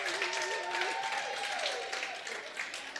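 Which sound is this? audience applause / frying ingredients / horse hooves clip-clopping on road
audience applause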